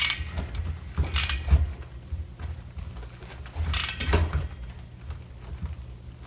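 A ratchet clicks in two short bursts while cylinder head bolts are torqued down on an 80cc two-stroke motorized bicycle engine fitted with a high compression head, close and moderately loud over a low background hum.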